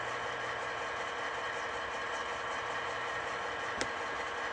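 MTH Veranda turbine HO scale model locomotive with an ESU V5 sound decoder idling, a faint steady hum and whine holding evenly throughout with one brief click near the end, no talking.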